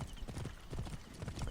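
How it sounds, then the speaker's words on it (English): Horse hooves clip-clopping in Assassin's Creed Origins, a quick steady rhythm of close, loud hoofbeats on hard ground, continuous through the short stretch. "I could live without the horses slowing down in cities."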